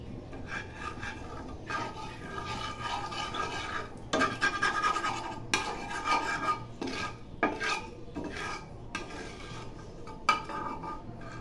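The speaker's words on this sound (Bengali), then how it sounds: "আবার ভালো করে মিক্সড করে নেব।" Salt being mixed by hand into a mango pickle mixture in a bowl, a steady close gritty rasping and scraping that keeps going with short pauses, moderately quiet, with no voices.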